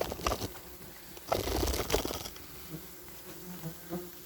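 Wasps swarming around several large nests in an attic, a dense, faint buzzing hum with a few louder passes close by, alone without voices.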